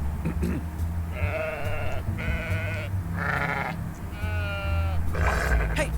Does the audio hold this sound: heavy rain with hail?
no